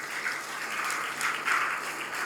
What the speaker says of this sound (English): Can we just give a big round of applause to this great nation?